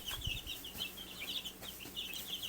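Young chicks about two and a half weeks old peck and scratch in fresh bedding, producing faint soft rustles and light taps with a few high chirps scattered across the short stretch.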